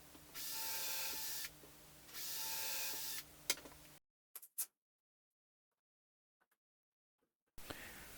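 Drill boring a test cluster of holes in scrap wood, with two sustained whirring bursts and a sharp click, followed by near silence broken by faint taps before the motor starts again.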